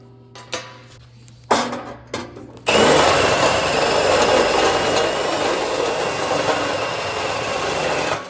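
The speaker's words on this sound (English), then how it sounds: "Then I'll take my step drill and drill them open just big enough for this ball." A step drill opening up holes for a ball fitting on a Scrambler motorcycle, preceded by a few sharp knocks and handling clatters, then a loud sustained grinding whir close up that runs to the end.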